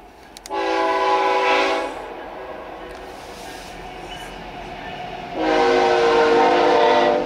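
Two long blasts from a Norfolk Southern freight locomotive horn, each a sustained harmonic chord, separated by a quieter gap of rumbling background, sounding moderately distant with wind carrying the tone.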